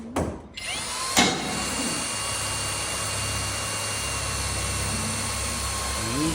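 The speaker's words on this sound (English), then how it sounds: "now hold pressure and now drill it" An electric drill bores a hole for a pop rivet on a dirt-track car, a steady continuous whine held under pressure with a brief bump near the start, close and fairly loud.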